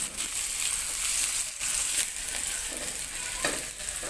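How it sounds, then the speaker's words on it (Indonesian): Shallots and garlic stir-frying in hot cooking oil, a steady close sizzle and crackle with occasional stirring scrapes, continuous and alone without talk. "Panaskan minyak goreng secukupnya, masukkan dahulu bawang merah dan bawang putih, lalu tumis hingga layu dan aromanya harum."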